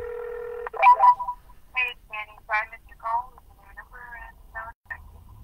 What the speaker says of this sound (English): We're using the Red X 3-line dialer, so there's 3 numbers being called right now at the same time.